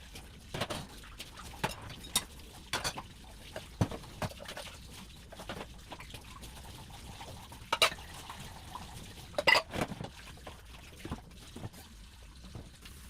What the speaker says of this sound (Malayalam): ഞാൻ ഓരോന്ന് പറഞ്ഞുകൊണ്ട് ഇങ്ങനെ പാത്രം കഴുകുക കേട്ടോ